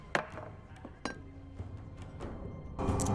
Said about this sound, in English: broke a glass.